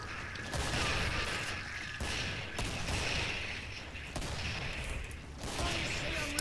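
Bursts of gunfire and mechanical clatter in the video game Killing Floor come in repeated loud waves with a dense, noisy wash between them, heavy and close throughout, with no speech over them.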